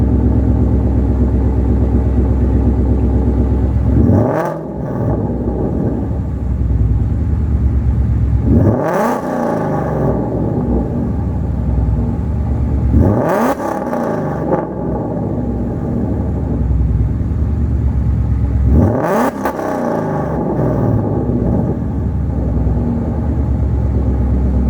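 A Ford Mustang GT with an aftermarket exhaust revs in four loud, close bursts, each rising to a sharp peak and falling back to a deep, rumbling idle, with no talking.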